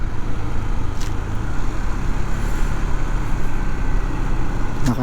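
A car or larger vehicle rumbles along the road during a Honda ADV160 motorcycle ride toward Kaybiang Tunnel, its loud, steady engine drone blending with wind roar, a brief hiss or brake sound near the end.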